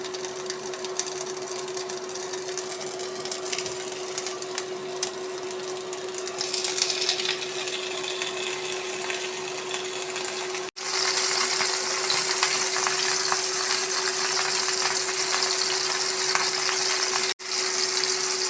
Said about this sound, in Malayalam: പാനിൽ എണ്ണ ഒഴിച്ചിട്ടുണ്ട് കുറച്ച് കറിവേപ്പില ഇടാം മീൻ ഓരോന്നായി വെച്ചു കൊടുക്കാം